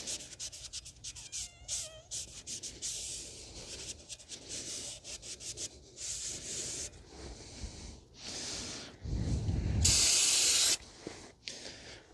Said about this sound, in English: Just gonna spray some brake cleaner a bit to get rid of that stuff.